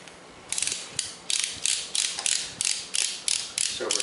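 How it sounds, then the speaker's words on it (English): The volume dial of an AP 100-1000 pipette is turned to 1000 microliters, producing a rapid series of about a dozen sharp ratcheting clicks in steady bursts, close and distinct, with no talking. "we're setting the pipetter at 1000 for 1000 microliters"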